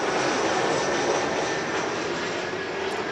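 An American Eagle airliner passes LAX airport, a steady broad engine roar heard from atop a parking garage, holding a constant loudness throughout with no voices.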